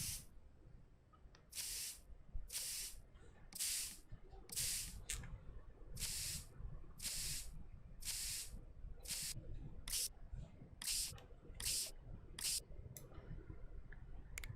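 Repeated short hissing spray bursts as a protective glossy coating goes onto dinosaur fossils in a fossil-preparation video game, each blast about half a second long and evenly spaced over a low background hum.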